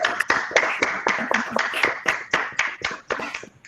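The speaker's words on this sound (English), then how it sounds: "take off your mute, and let's give Tania a big round of applause" A scattered round of hand claps from a handful of participants on an online video call, uneven individual claps close to the microphone tapering off toward the end.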